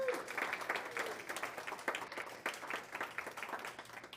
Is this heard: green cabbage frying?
no